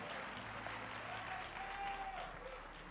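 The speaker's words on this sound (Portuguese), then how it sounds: "os que podem, tomem o seu assento, aplaudindo a Jesus, porque Ele é bom" A church congregation claps steadily throughout, a dense, even wash of applause at moderate distance in a large hall, with no clear speech over it.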